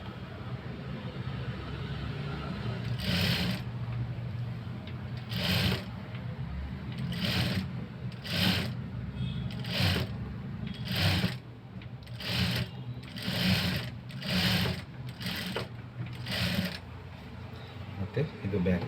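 A sewing machine stitches a blouse in steady short bursts of fast mechanical whirring, repeated a dozen times over a constant low hum, with someone talking throughout.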